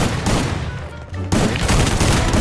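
Loud shotgun blasts in the Free Fire battle royale game, several booming shots in quick succession with a brief lull near the middle, then dense continuous gunfire filling the rest.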